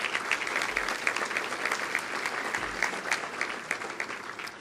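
Guests at a women's awards ceremony keep clapping for the selection committee, a sustained, moderately distant round of applause with individual claps standing out across the room.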